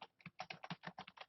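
Keys clatter on a computer keyboard as code is typed into a browser console, a quick, uneven run of about a dozen close, quiet clicks with no voices.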